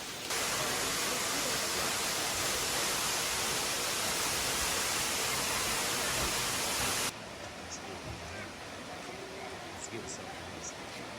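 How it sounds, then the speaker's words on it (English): Lower South Falls in Silver Falls State Park sends out a loud, continuous roar of falling water, which drops abruptly to a quieter, more distant wash partway through. "So behind me we got Lower South Falls"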